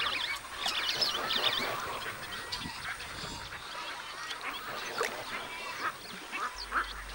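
Ducks quack amid a busy wetland chorus of scarlet ibises, spoonbills, egrets and wood storks, a dense layered wash of calls and squawks at moderate distance, with no talk.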